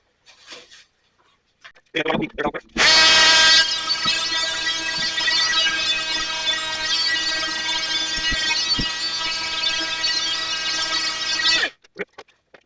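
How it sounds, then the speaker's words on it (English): A power sander runs on a glued teak wood stand, switching on with a loud burst and then holding a steady whining buzz for about nine seconds before cutting off, with brief handling knocks around it. "So let me do a quick sanding."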